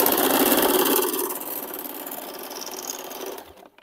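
A sewing machine stitches a petticoat seam at a half-inch allowance, running in a steady, close mechanical whir that softens and then stops near the end.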